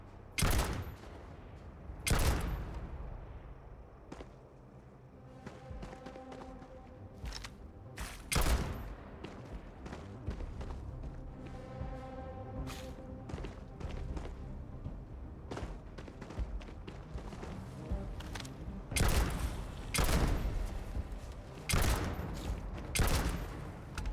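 Gunfire in Starfield: loud sharp shots repeated irregularly, some in quick clusters, with ringing tails and a faint hum between them and no talking.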